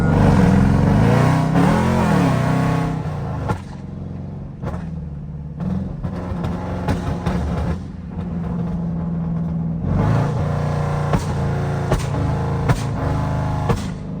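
A 5.7 Jeep engine revs hard again and again on a nighttime drive, loud, close rumbling pulls that rise and fall with brief lulls between them, no talking over it.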